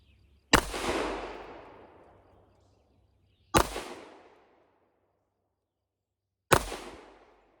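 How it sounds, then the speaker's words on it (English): Three loud, sharp gunshots from a Colt M45A1 1911 pistol, the USMC model, fired close by about three seconds apart, each a hard crack trailing into a long echoing decay, with no talking. "bring the weapon up, make it ready for fire, and we will fire the initial 5-6 rounds"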